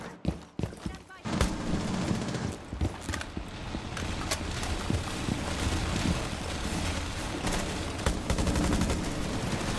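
Bursts of rifle gunfire crackle during a ranked Rainbow Six Siege match, sharp repeated shots over a busy game soundscape, with a player's voice talking at points.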